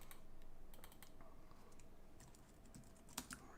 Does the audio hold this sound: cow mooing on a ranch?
no